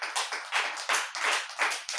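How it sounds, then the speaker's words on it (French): Rhythmic group clapping from a church congregation, about seven evenly spaced claps in two seconds, fairly faint and with no voices over it. "Applaudis pour le Seigneur."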